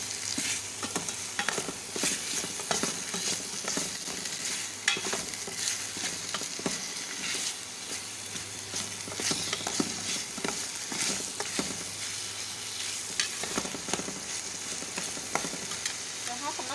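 Chicken fries with Thai green curry paste in a pan, a constant dense sizzle with frequent spoon scrapes and clinks as it is stirred, steady and close throughout.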